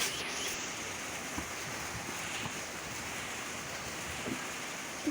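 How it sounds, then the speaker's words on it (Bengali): Steady wind before rain in hot weather, a broad continuous rushing with light buffeting on the microphone and a few faint knocks, fairly quiet and with no talk. "কি সুন্দর বাতাস আছে"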